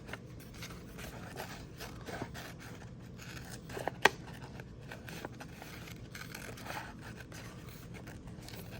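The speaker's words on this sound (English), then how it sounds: "So I'm cutting around the contours." Scissors snip around the contours of paper pieces cut out for a collage portrait, a steady run of soft, close snips and rustles with one sharper cut partway through, no talking.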